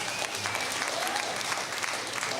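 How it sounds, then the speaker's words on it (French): An audience at a live comedy show breaks into dense, sustained applause, many hands clapping evenly throughout, with faint crowd murmur beneath. "Par applaudissement, combien de monde ici pense qu'on a atterri sa Lune?"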